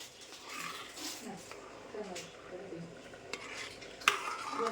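Cashews and raisins frying in a pan at home, a soft sizzle with faint stirring and clinks of a utensil against the pan, heard under nearby talk and other household voices.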